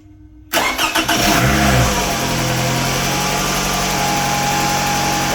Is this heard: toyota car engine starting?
yes